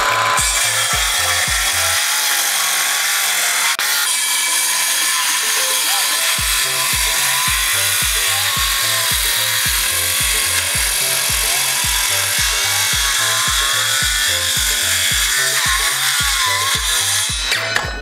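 A 6.5-inch circular saw cuts into a wooden fence post top, a loud, sustained whining buzz with a rapid rhythmic thumping as the blade bites through the wood, running almost continuously at close range.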